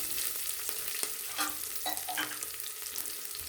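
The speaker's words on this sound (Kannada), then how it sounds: "ಕರಿಬೇವಿನ ಎಲೆ ಸ್ವಲ್ಪ ಹಾಕ್ಕೊಂಡು ಚೆನ್ನಾಗಿ ಎಣ್ಣೆಯಲ್ಲಿ ಫ್ರೈ ಮಾಡ್ಕೋಬೇಕು" Curry leaves and garlic fry in hot oil in a pan, a steady bright sizzle with scattered pops and the scrape of a spoon stirring close by, no voices.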